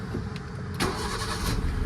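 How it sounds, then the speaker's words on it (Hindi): Used second-hand car engine cranking and catching, a brief starter whir followed by a steady low idle, close and loud with no talk. "आप गाड़ी सबसे पहले बैठने के बाद आप स्टार्ट कर लेना"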